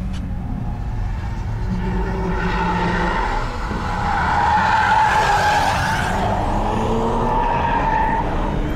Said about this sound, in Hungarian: új gumi csikorog, de most legalább befordult